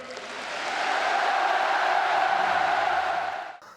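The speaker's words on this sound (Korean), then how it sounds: "우리 모두 문재인 대통령에게 열광적인 박수와 열렬한 환호를" An audience at a formal ceremony gives sustained applause, a dense rush of clapping that swells in, holds steady for about three seconds, and then cuts off, with no speech over it.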